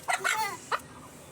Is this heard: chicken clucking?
yes